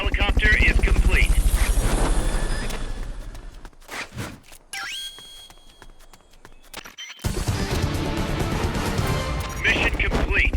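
Helicopter in the video game Metal Gear Solid Peace Walker, a loud sustained rotor and engine roar heard alone for about four seconds, then dropping out amid sharp clatters before the dense roar returns.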